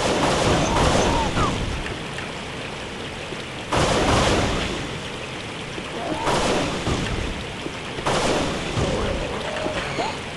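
An energy pulse rifle fires in the video game Unreal, sending out several loud, sharp blasts spaced a few seconds apart over a noisy rumbling backdrop, with no voices.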